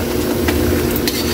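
Pork sautéing in a pan for Filipino pork sinigang, a steady dense sizzle with faint stirring and clinks, close and continuous throughout.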